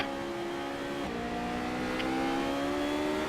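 A Radical race car at Silverstone circuit runs under steady power from the cockpit, a loud continuous engine drone with rising whine as it accelerates, no talking.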